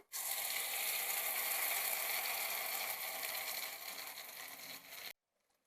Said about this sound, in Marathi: जिरे मोहरी हिंग आणि कडीपत्त्याची फोडणी तयार करून घेतलेली आहे मी त्याच्यामध्ये आपण ही चटणी आहे ती घालायची